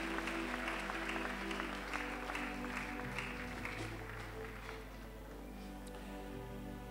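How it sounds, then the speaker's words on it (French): A church congregation applauding at a Sunday service, sustained clapping with a broad, roomy texture that gradually thins and softens toward the end, over a low background hum. "Can you put our hands together to Jesus?"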